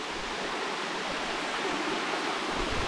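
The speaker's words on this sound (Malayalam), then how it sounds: "നല്ല വെള്ളം പലയിടത്തുനിന്നായിട്ട് ഇതേമാതിരി തന്നെ വന്നുകൊണ്ടിരിക്കുന്നുണ്ട്" Water rushing down a landslide-scarred hillside at Plappally from many spots at once, a steady, loud, broad roar of flowing streams with no breaks or voices.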